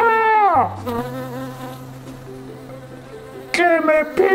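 A bee buzzes in a children's cartoon story, a steady tonal drone with harmonic stripes that holds for several seconds while panicked voices cry out around it.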